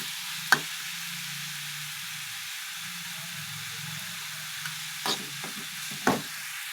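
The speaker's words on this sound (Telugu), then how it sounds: "అల్లం వెల్లుల్లి పేస్ట్ అది పచ్చి వాసన పోయేదాకా వేసేసుకోవాలి." Ginger-garlic paste frying with onions in a pan for chicken liver fry gives a faint, steady sizzle, broken by a few sharp stirring clicks and scrapes near the end.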